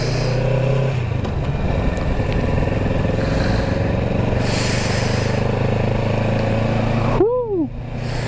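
A motorcycle ridden through rain on a city road gives a continuous engine drone under steady wet road hiss, with a sharp rising and falling whistle-like tone near the end.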